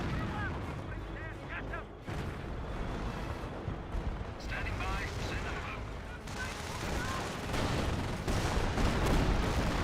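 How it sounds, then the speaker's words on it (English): Artillery fire from a 25-pounder howitzer in Company of Heroes: booming blasts and crackling gunfire rumble through a busy battle, under a voice talking. "Great howitzer shot there from the 25-pounder."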